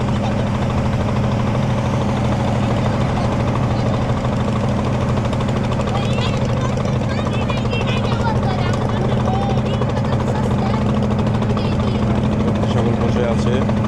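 The engine of the Sylhet-bound launch Aki Enterprise on Nikli haor gives a loud, steady, deep throbbing hum, and a voice talks over it.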